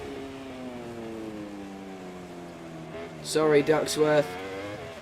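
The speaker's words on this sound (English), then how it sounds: "This is a flying lap of the Red Bull Ring in the wet as he comes around turn 1." A MotoGP bike laps the wet Red Bull Ring in MotoGP 24, its engine note sliding steadily down in pitch, then revving up in a busier, louder burst while someone talks over it.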